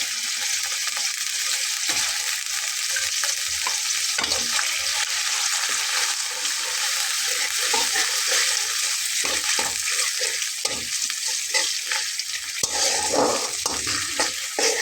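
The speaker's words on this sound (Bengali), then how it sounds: "বাটা মশলাটা আমি এখানে দিয়ে নিলাম বন্ধুরা মশলাটা একটু নেড়ে ছেড়ে দিয়ে" Ground paste of ginger, garlic and onion frying in a pan for a cauliflower fish curry, a loud steady sizzle throughout with scraping stirs and spoon knocks breaking through.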